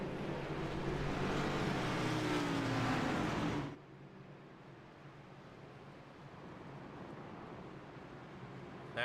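Race cars circle the Watkins Glen racetrack during warm-up laps before a night race, a loud close engine roar with rising pitch cutting off abruptly, followed by quieter distant engine drone and ambient track noise.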